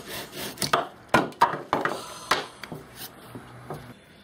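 A cord-driven bow drill with a clay spindle turns against wood, giving a close series of irregular, scratchy rasping bursts that fade between strokes.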